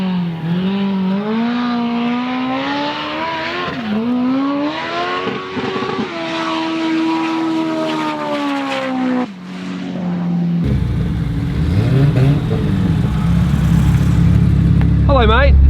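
A 1500 hp Mitsubishi Evo 6 race car running 85 psi of boost, its engine revving and climbing through rising, wavering pitches before gear changes, then a harsher, louder roar of full acceleration, close and dominant, with voices speaking over it.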